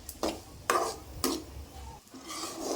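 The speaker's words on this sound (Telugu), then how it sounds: "అందులో కొంచెం పచ్చిమిర్చి కూడా వేసి బాగా స్లో మోషన్లో పెట్టుకొని కలర్ చేంజ్ అయ్యేంత వరకు అయితే బాగా కలుపుకోండి" A spoon scrapes through egg bhurji with green chillies in a pan, three or four rhythmic stirring strokes close up over a faint sizzle, no voices.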